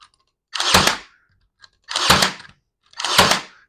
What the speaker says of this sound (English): This thing shoots up to 2-inch nails